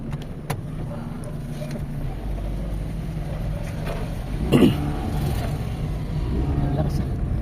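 A Toyota GLi car engine idles steadily after repair work, a low continuous hum with a brief bump in revs midway, while people talk over it nearby.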